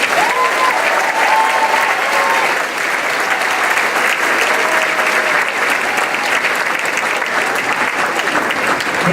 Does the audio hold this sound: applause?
yes